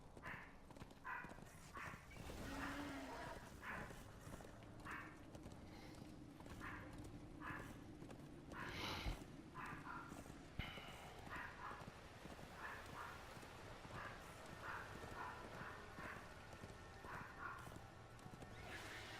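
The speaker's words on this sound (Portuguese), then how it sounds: "Pra lá, cavalo!" A horse in the video game Darksiders II clip-clops and gallops through repeated hoof thuds, with a neigh partway through, faint and mixed with game sound effects.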